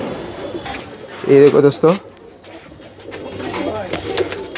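Pigeons coo in a low, throaty burst inside a pigeon loft in Gujarat, with someone talking over and between the calls and soft rustling around them.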